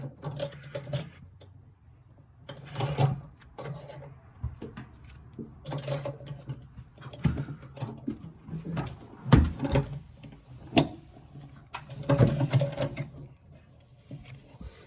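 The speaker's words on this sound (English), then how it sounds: "now we're using this cheap Amazon tap wrench" A cheap Amazon tap wrench grinds and ratchets in uneven, close bursts as it cuts threads for D-ring anchors in a Maverick XL, with creaks and clicks between the harder turns.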